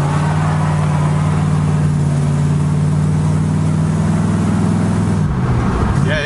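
A 1965 Ford station wagon engine pulls steadily under load while driving, a loud continuous low drone with rising harmonics, then the pitch shifts and drops near the end as the car changes speed.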